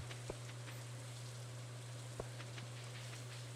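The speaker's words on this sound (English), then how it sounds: "it's raining right now" Soft, steady rain hiss in the video game Stardew Valley, with a few scattered drip ticks over a constant low hum, with no voices.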